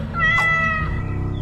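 A cartoon cat gives a single drawn-out meow over a low background music bed, clear and fairly loud with no speech over it.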